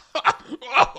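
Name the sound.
player imitating a character's heavy coughing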